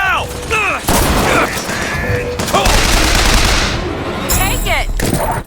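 Mounted turret in Bioshock Infinite firing loud, dense bursts of rapid gunfire, nearly continuous through the clip with brief gaps, mixed with shouting voices and combat noise.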